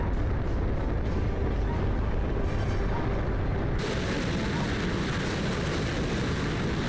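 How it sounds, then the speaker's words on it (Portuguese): Weapons fire in a combat flight simulation of Brazilian Gripen fighter jets, a loud, continuous roaring rumble that thickens and brightens abruptly about halfway through. "Tá disparando, tá disparando, olha lá, tá disparando."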